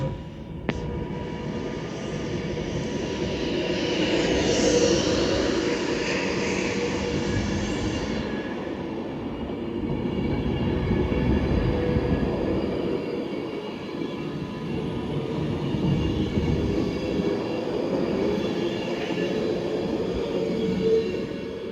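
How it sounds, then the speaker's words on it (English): Avanti West Coast Pendolino pulling out of Warrington Bank Quay on the West Coast Main Line, a steady rumble and electric whine building and holding throughout, close and moderately loud. "Now departing is going to be the 10:42 Avanti West Coast service to London Euston via Birmingham New Street."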